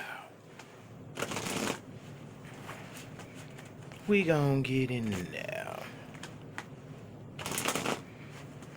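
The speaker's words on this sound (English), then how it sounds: "Shuffle up a few more times." Several short bursts of a deck of cards being shuffled at a reading table, riffles spaced a few seconds apart, near and moderately loud, with a person talking between and over them.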